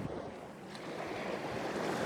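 Sea waves wash onto a sandy beach shore in a soft, continuous surf roar with a touch of wind, swelling slightly toward the end, with no voices.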